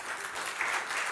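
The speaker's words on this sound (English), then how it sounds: "Let's give the Lord a hand clap." A church congregation claps during a worship service, a brief burst of dense, steady applause lasting about a second.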